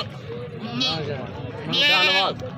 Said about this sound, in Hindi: ये राजनपुरी बकरी है भजन। ये 4 माह की गबन है।